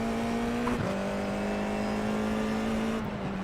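An iRacing Formula F4 race car engine on the Long Beach street circuit, a steady high whine holding pitch with a brief shift dip, close and loud, alone.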